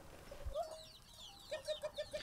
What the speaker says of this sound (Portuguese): Seninco Adubo comprou algumas galinhas. Alimenta-as com restos da cozinha